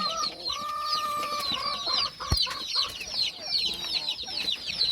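Chickens on a poultry farm cluck and call repeatedly nearby, overlapping chatter from several birds with a sharp knock partway through.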